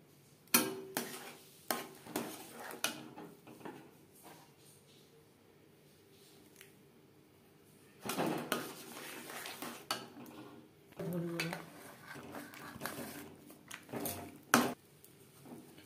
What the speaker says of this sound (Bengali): এভাবে চালের গুঁড়ো মিক্সড করতে থাকবো আর নাড়তে থাকবো।